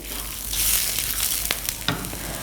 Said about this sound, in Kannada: ಒಣಮೆಣ್ಸಿನ್ಕಾಯಿ ಇವೆಲ್ಲ ಹಾಕಿ ಹುರ್ಕೊಳ್ಳಿ